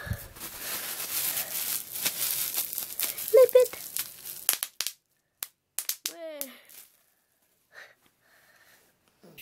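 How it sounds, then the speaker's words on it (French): Crinkling and popping of plastic packing material being handled, dense rustle at first, then scattered crackles and pops trailing off into near silence. "du papier bulle."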